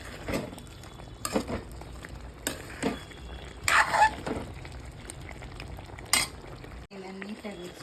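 Chilli chicken is stirred in a pan, with repeated scraping strokes and utensil clinks over a soft sizzle, the scrapes coming in irregular bursts and the frying fading near the end.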